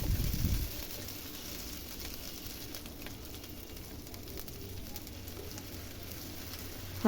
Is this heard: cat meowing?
no